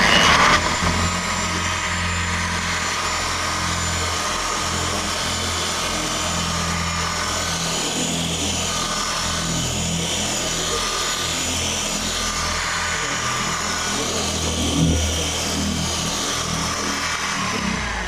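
A Halfords machine polisher runs at low speed, working polish into car paintwork. It makes a steady, loud, close whirring drone with a constant pitch throughout.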